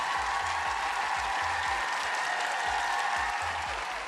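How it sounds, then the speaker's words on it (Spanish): Steady, dense audience applause from a studio crowd greeting a guest joining by video call, continuous and even from start to finish with a faint low thumping underneath. "Cristian, nuestro público te manda un aplauso a la distancia."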